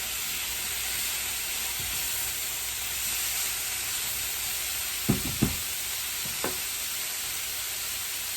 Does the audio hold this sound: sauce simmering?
yes